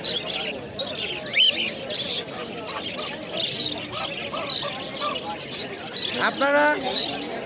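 Many birds and pigeons chirp and tweet over a busy crowd murmur, with a clear warbling call near the end, voices chattering throughout in a lively outdoor wholesale bird and pigeon market in Fatullah, Narayanganj.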